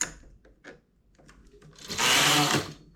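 A knitting machine running its carriage across a row of needles to make pleats, with light clicks and knocks before a loud, dense rushing swish near the end.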